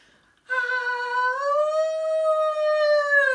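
A human voice imitates a wolf howling, one long sustained rising-and-holding howl after a brief silence, loud and close with no other sounds.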